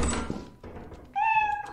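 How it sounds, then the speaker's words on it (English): A cat meowing in the video game Lethal Company, a short bright meow after a dull thunk and knock, fairly close and loud. "Oh my god, I found a cat already."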